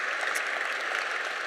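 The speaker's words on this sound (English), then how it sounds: "make a big applause to yourselves" Steady applause from an audience, a dense wash of clapping hands holding at an even level throughout with no voices over it.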